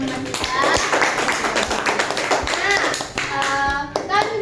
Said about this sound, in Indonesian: Beri aplaus lagi untuk teman-teman kita